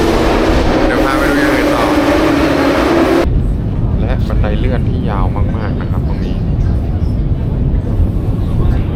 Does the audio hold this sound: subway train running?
yes